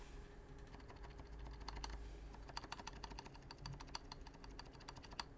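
Rebuilt M0110 keyboard with unsilenced switches being typed on steadily, a dense run of close, crisp key clicks with some louder strokes, no speech.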